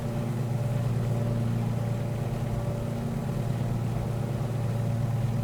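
The twin piston engines of a Carenado Beechcraft 18 in Microsoft Flight Simulator run at a steady low rumble with an even drone, loud and unbroken, with no talk.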